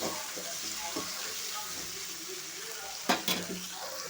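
Tomatoes fry in a pan for a Tamil dried-fish curry, giving a soft continuous sizzle with light stirring scrapes and a brief clatter near the end.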